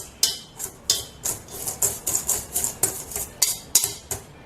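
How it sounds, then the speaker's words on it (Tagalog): A yeast mixture is stirred into flour for pandesal dough, producing a steady series of quick scraping, clinking strokes against a bowl at an even rhythm, close and fairly loud with no talking. "So I'll mix this first with the flour."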